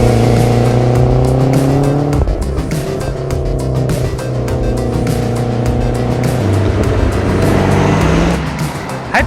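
A Lancia Delta Integrale Evo1 drives with its engine note loud and close throughout, revs rising and falling between gear changes in a steady, continuous run.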